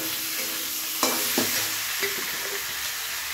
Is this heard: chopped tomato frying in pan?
yes